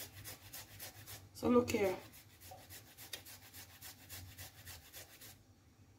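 Garlic rubbed against a grater by hand, soft rasping strokes that are quiet and close, with a brief louder burst of grating near the start and a short remark spoken over it.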